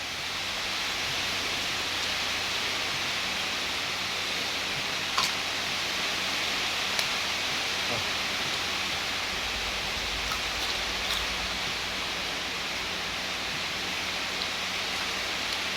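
Steady rain falling after work near a small market, an even hiss filling the background at moderate level with a few faint knocks and no voices.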